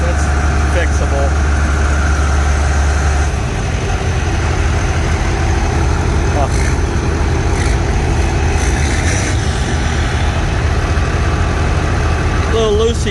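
An old Red Power 9 tractor engine runs at a steady, loud, low idle throughout, with someone talking over the continuous rumble.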